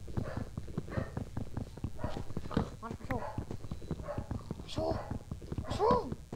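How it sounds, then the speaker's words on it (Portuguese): Dogs bark intermittently in short yips and woofs at moderate distance, mixed with rhythmic clopping and a voice talking in the foreground. "Foi mal pelo som dos cachorros latindo"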